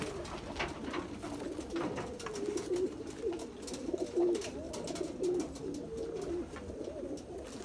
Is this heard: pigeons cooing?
yes